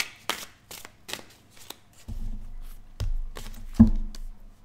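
Tarot cards are handled and laid down on a table in several quick soft shuffling and slapping bursts, close to the microphone, with a low thump or two between.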